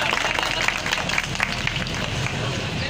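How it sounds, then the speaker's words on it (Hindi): Applause from a crowd at a helmet awareness rally in Karachi, steady dense clapping heard from a moderate distance with a general murmur of people. "भरपूर तालियां होनी चाहिए"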